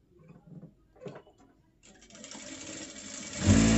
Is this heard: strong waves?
no